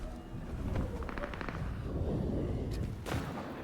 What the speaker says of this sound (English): Why am I hearing